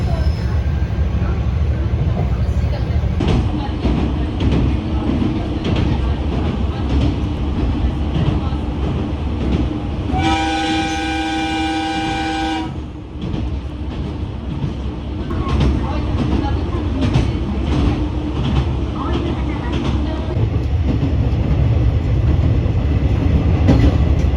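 A JR Etsumi-Kita Line local train runs on rails from the plains into the mountains, with a constant rumble and rattle heard from inside the car and a brief high tonal whine in the middle.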